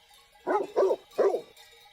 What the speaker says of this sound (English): Max is concerned about the presence of the Pateau dogs